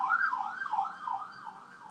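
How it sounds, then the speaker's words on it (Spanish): An ambulance siren wails faintly in the distance outside a live-streamed talk, a rising and falling tone sustained throughout without speech over it. "Live ambientado por ambulancia, no sé si lo escucharan"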